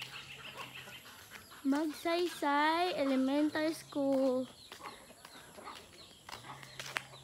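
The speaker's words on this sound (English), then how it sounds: "Look at the chickens," Chickens cluck and call near a rural mountain school, a burst of loud, strained rising cries in the middle with quieter clucks around it, while people talk in the background.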